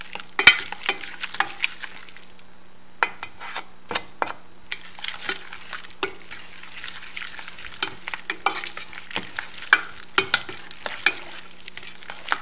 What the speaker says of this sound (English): what I do is I pour in a little bit of milk, stir it up